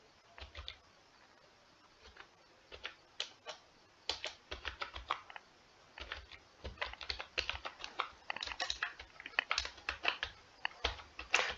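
Quick bursts of clacking keystrokes on a computer keyboard fill in an online form, coming in irregular clusters with short pauses, close and fairly soft, with no talking.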